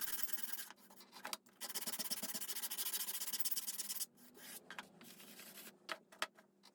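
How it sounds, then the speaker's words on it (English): An emery board is rubbed back and forth to level a shim flush with a surface, giving close, faint scratchy sanding strokes in bursts separated by short pauses. "use the emery board again to level it off"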